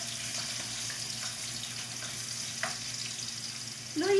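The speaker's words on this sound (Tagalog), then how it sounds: "gisa muna natin. Unahin natin ang luya." Ginger sautéing in a hot pan gives a steady, close sizzle and crackle, with a light clatter of stirring near the end.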